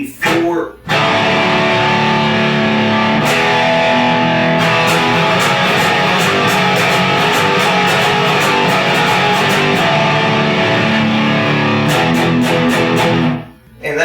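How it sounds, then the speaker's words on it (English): Distorted electric guitar playing a big open power chord riff, sustained thick chords with a few sharp rhythmic re-strikes, loud and close, starting and ending abruptly. "And that's just a big open power chord."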